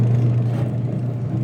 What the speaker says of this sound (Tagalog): Ayun, umandar ang motor.